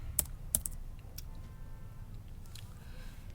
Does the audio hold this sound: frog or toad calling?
no